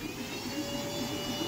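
A WeCreat Vision laser engraver runs, giving a steady, even whirring hum with a faint buzz that holds without change through the short stretch, with no voices.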